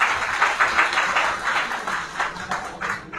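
Steady applause at a political event, many hands clapping in a continuous, moderately loud patter from a crowd, with no voices over it.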